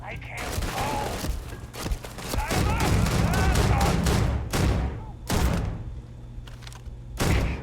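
Grenades going off in the video game Starfield, a series of sharp muffled blasts and bursts of gunfire in uneven clusters with pauses between them, a voice talking in the gaps.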